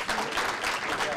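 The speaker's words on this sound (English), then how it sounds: "Let's give them a big round of applause for expanding internet access." A crowd applauds at a governor's public visit in Ohio County, Kentucky, producing a brief, steady burst of clapping with voices mixed in beneath it.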